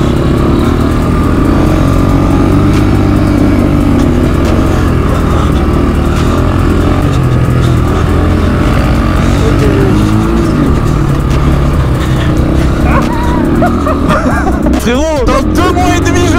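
A motocross bike engine roars continuously on a dirt track, loud and close with rising revs and gear changes throughout, while riders talk over the noise.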